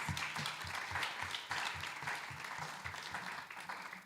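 Audience applause for candidates and guests at a candidate forum, continuous crowd clapping with some distinct individual claps, held at a moderate, fairly distant level.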